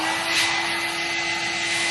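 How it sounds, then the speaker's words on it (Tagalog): A handheld hair blow dryer runs steadily with a loud, even rushing hiss and a constant whine, close up and uninterrupted, used while styling hair. "Blower muna natin."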